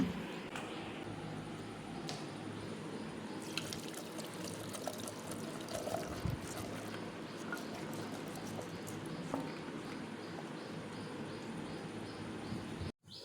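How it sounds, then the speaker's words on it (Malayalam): Water is poured into a pot of pressure-cooked vegetable pieces for asthram, a Kerala curry, making a long, steady splashing trickle at close range that continues for many seconds before stopping abruptly. "ഇതിലോട്ട് ഇനിയിപ്പോൾ ആവശ്യത്തിന് വെള്ളം ഒഴിച്ച് കൊടുക്കണം"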